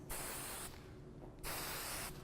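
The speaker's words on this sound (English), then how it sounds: "So we're spraying that down" Hairspray hisses onto a hair bun in two bursts of roughly half a second each, separated by a short pause, close and crisp.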